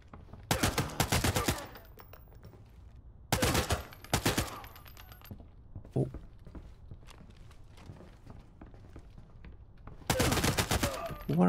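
Gunfire in the video game Arena Breakout Infinite comes in three loud, close bursts of rapid shots, separated by quieter stretches with faint movement sounds.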